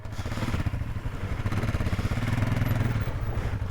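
A motorcycle engine runs on gentle throttle over a rocky, washed-out trail in Pleasant Canyon, Panamint Valley, a close, steady, pulsing putter with light clatter and no voices.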